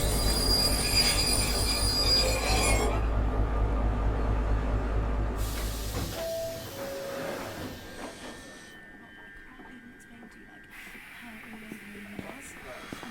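Train wheels squeal loudly against the rails as a passenger train rides along, the harsh screech giving way to rumbling and clatter of the railcars, with faint voices in the background.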